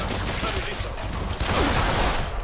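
Rapid machine gun fire from a gunman in Marvel's Spider-Man on PS4, a dense continuous rattle of bursts filling the short span with loud, steady intensity and no pauses.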